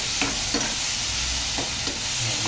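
Food stirred in a hot pan just after fish sauce (patis) is added, a steady broadband sizzle with a few soft scraping stirs, close and continuous with no talking.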